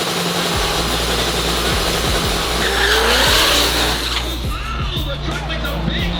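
Racing truck roaring through a big left-hand turn on a track, the engine loud and sustained with tire squeal and skidding noise rising midway.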